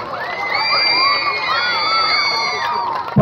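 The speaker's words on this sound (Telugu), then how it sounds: "చప్పట్లు కొట్టాలి" Schoolchildren clap and cheer at a municipal high school prize ceremony, a lively crowd roar with high shouts and whoops filling the whole stretch at close range.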